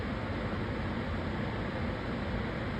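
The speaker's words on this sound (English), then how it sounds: "It is absolutely pouring." Heavy rain drums on a skylight in a dense, even roar that holds steady throughout, with no voices.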